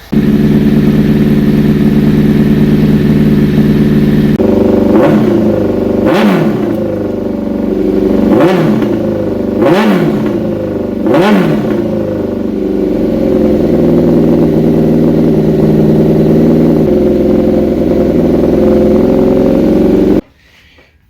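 A 2005 Honda CBR1000RR sport motorcycle engine idles loudly up close, revs sharply four times in quick succession, then settles back into a steady rumbling idle before cutting off.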